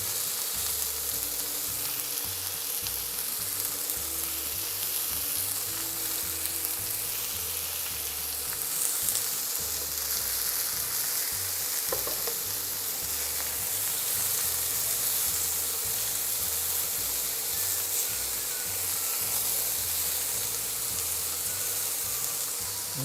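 Pork pieces frying in a pan for pork teriyaki, a loud, steady crackling sizzle held close and unbroken throughout, with faint stirring and no talk.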